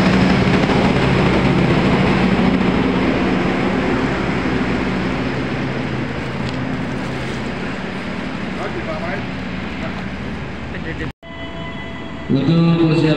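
A train pulls into Kroya station in Indonesia with a loud, steady rumble and rushing noise that slowly eases over about eleven seconds. It then cuts off abruptly, and a station announcement voice follows.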